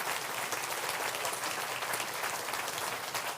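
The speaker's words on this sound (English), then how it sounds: "let's give Richard a massive round of applause" An audience at a talk on gardening for bees gives the speaker a warm round of applause: thick, continuous clapping from many people, bright and steady for the whole few seconds with no voices over it.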